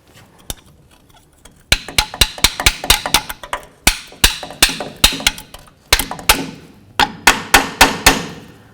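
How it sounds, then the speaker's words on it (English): Sharp metallic hammer blows on a steel punch while working on the front brakes of a 2003–2009 Toyota 4Runner, a few light taps followed by a long run of rapid, loud, ringing strikes in uneven bursts, close up. "Punch and a hammer."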